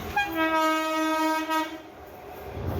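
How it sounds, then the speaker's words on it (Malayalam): Ananthapuri Express, the Kollam to Chennai Egmore train, sounds a long clear horn blast from a distance as it approaches near Nagercoil, followed by a rising rumble. "അപ്പോൾ നമ്മുടെ അനന്തപുരി എക്സ്പ്രസ് അങ്ങനെ ദൂരെ നിന്ന് വരുന്നുണ്ട്."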